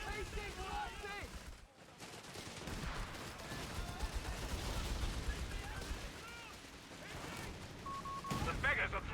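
Battle gunfire in a strategy video game with AT-AT walkers, rapid bursts and volleys crackling steadily under game voices and chatter, with a short lull early on.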